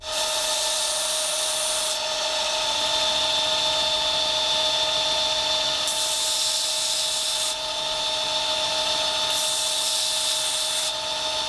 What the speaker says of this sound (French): Je vais faire le planage des cotes pour enlever tous les traits de scie